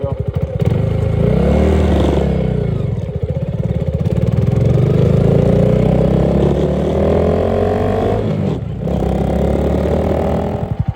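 A Honda Grom motorcycle runs loud and close as it is ridden, its engine holding a steady drone with rising and falling revs and a brief dip near the end.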